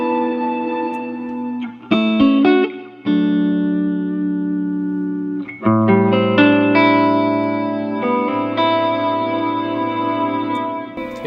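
Electric guitar played through a Walrus Audio Fathom reverb pedal, its momentary switch engaged for a swelling sustained reverb; chords ring and overlap with long, washy tails, fairly loud and alone with no talking.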